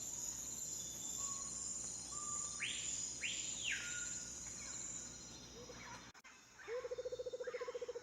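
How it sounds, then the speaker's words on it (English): Birds sing at sunrise above a rainforest canopy: faint chirps and a couple of rising whistled calls over a steady insect hum, ending with a brief rapid trill nearby. "as the sun rose above the canopy and the birds began to sing in the sky, Inu was already watching the flowers open"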